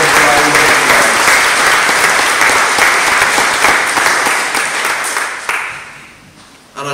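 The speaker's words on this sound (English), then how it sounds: "Let's put our hands together and give them all a richly deserved round of applause." Loud, full applause from a church congregation at a Harvest Thanksgiving Sunday service, holding strong for several seconds before tapering off toward the end.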